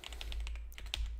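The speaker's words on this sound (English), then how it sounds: "My keyboard." Rapid typing on a computer keyboard, a quick run of crisp key clicks with a few heavier taps, close up and with no talking.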